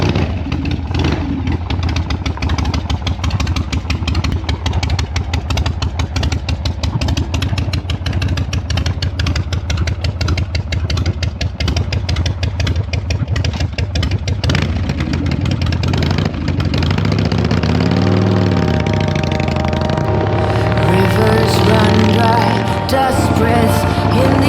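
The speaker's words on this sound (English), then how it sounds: "And lately my friend Blake's Evos" Harley-Davidson Evo engine rumbling loudly and steadily close by, with a rougher surge in revs near the end; the lumpy idle and blips are buried under a constant wash of noise.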